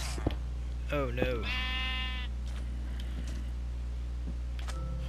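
A sheep in a Minecraft survival game gives a couple of short wavering bleats and then one longer bleat, close and clear over a steady low hum, with a faint voice later.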